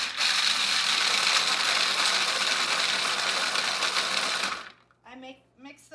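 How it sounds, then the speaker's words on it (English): A small Cuisinart food processor chops sriracha almonds, a loud, dense whirring grind that runs steadily for over four seconds, then cuts off abruptly as a voice begins speaking. "take these sriracha almonds that you can get pretty much anywhere, and I put them in the little Cuisinart thing"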